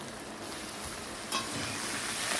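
Prawns being stirred in a pan with turmeric, cumin and chili powder, a steady close scraping and soft sizzle running throughout with no voices.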